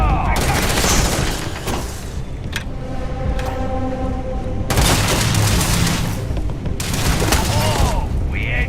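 Gunfire fills a combat scene in the video game Starfield: dense bursts and rapid shots over a loud, continuous mix of game effects and voices.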